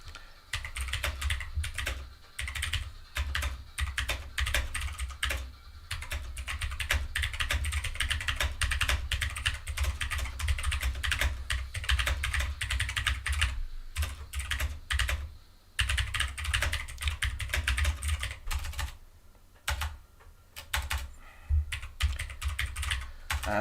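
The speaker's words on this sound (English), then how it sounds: "just typing a message into the chat, guys." Someone types a chat message on a computer keyboard during a card game session, producing steady, close clicking keystrokes in bursts with brief pauses, and no talking.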